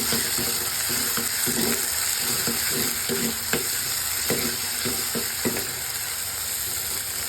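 Tomato with curry leaves frying in a pan, a steady hiss of sizzling oil throughout with irregular scraping and stirring clicks, close and continuous, no talking.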